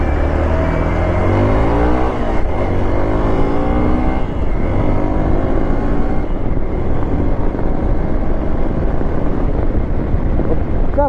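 Motorbikes riding at night past a rider on a road near Narsapur forest urban park, Hyderabad: a loud continuous engine drone with rising and falling pitch sweeps as bikes pass close, heavy wind rumble throughout.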